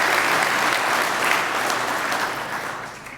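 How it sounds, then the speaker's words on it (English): A conference audience at a DevOps event gives the sponsors a brief round of applause, a dense, steady patter of many hands that eases off slightly over about three seconds. "So a big round of applause for the sponsors that made this possible"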